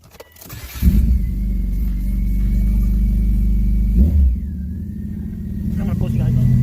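A rebuilt BMW M52 engine cranks briefly and catches, settling into a loud, throaty idle, then gives a short rev before dropping back to a steadier, slightly quieter idle that swells again at the end.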